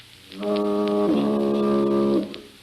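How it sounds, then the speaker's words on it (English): A single deep, steady foghorn blast, loud and sustained for nearly two seconds, with a slight pitch shift midway before it cuts off. "That's like the Lifebuoy foghorn."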